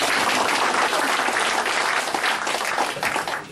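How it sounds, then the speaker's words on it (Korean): Dense applause from a crowd at an outdoor political rally, loud and continuous throughout with no let-up. "다시 한번 감사의 박수 한번."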